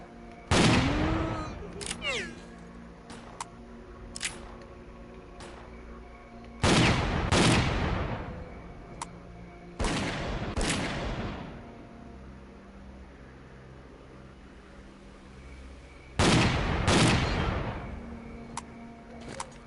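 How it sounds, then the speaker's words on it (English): Shotgun blasts in the video game Stalker Clear Sky: several loud, booming shots with echoing tails, some in quick pairs, separated by pauses of a few seconds amid faint background noise. "Luckily, I've still got the shotgun."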